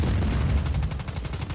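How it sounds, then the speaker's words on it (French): Just Cause 4 gameplay on Xbox One, with rapid bursts of automatic gunfire aimed at the player: a dense, loud, continuous volley of shots over a booming low end, with no talk. "Et qui est-ce qui me tire dessus?"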